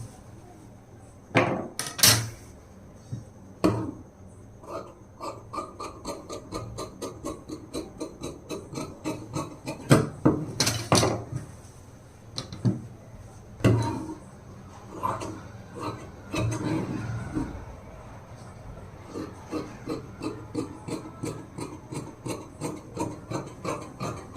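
Scissors cut through blouse fabric in a series of crisp snips and rasping strokes, irregular at first then settling into a steady rhythm of close, distinct cuts with no talk.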